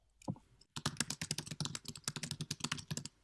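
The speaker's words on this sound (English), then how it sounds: "maybe someone's typing frantically here" Rapid, frantic typing on a computer keyboard: a dense, uneven stream of close, crisp key clicks after a brief opening tap and a short pause, heard alone without voices.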